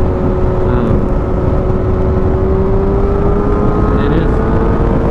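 A Yamaha FZ8 motorcycle engine runs loud and close under constant riding wind rush, holding a steady high drone with a slight rising pitch as it pulls.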